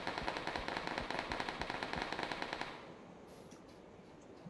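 Rapid automatic gunfire in PUBG, a close, steady burst of evenly spaced shots lasting under three seconds before cutting off into quiet game ambience.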